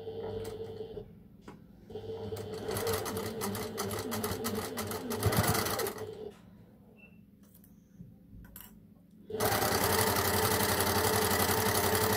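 A sewing machine stitches Dresden plate quilt pieces, running in a steady rapid whir with brief stops and restarts, pausing quietly midway before resuming loud and continuous.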